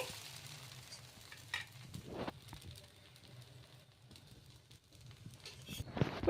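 Idli rava dosa batter spread on a hot pan gives a faint, steady sizzle with a few soft scraping touches from a ladle.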